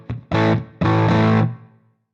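A guitar played through a Fractal amp model of a 1959 Fender Bassman on its bright channel, loud and heavily distorted: two strummed chords ring out close and full, then fade away with no talking.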